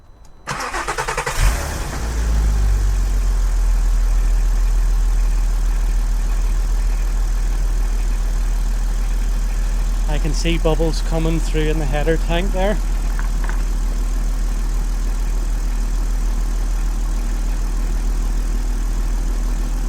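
A Mk5 Golf R32 engine cranks and fires, then settles into a steady, loud idle with the radiator cap off during a coolant bleed; someone talks briefly over the running engine.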